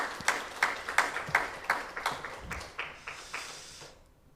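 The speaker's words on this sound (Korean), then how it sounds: "우리 박수로 하나님께 영광 돌리겠습니다" A church congregation applauds at a Friday worship service, a series of sharp rhythmic claps about every third of a second that gradually fade and die out.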